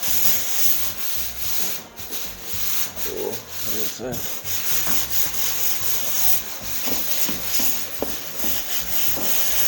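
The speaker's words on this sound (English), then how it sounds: "So you just come back and you sand it down." Drywall is sanded by hand in a steady, close rasping rub that runs almost without pause, with small bumps and scuffs breaking the even hiss and no talk.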